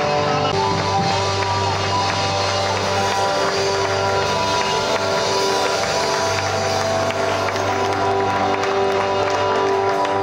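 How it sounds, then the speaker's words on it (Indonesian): Congregation at an evening church worship service applauding for the glory of God: steady, dense clapping from a large crowd under a sustained musical drone, loud and continuous for the whole stretch. "Berikan tepuk tangan saudara bagi kemuliaan Tuhan."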